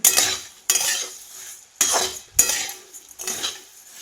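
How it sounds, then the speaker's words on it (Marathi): Coriander seeds roasting in a little oil in a pan, stirred with a utensil: four bursts of scraping, clinking strokes with a light sizzle between them, close and fairly loud, with no talking. "ह्यात कमी तेलामध्येच धने भाजून घेणार आहे"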